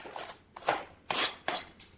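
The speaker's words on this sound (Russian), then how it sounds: "Примерно чашку грецких орехов порубить" A knife chopping about a cup of walnuts on a board: four or five sharp, close chopping strokes spaced unevenly, each a crisp crack with a short tail, alone with no talking.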